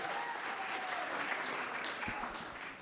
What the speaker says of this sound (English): let's get that clapping going, right?